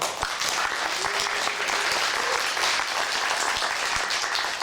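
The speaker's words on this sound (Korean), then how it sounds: "다시 한번 박수 부탁드리겠습니다" An audience at a Korean-language speech contest for foreign workers applauds a Nepalese contestant, steady dense clapping filling the whole stretch at even loudness with no one speaking over it.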